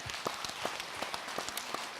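An audience at a Korean Buddhist question-and-answer dharma talk claps, a light scattered patter of individual claps fairly close, with a few distinct sharper claps standing out over two seconds.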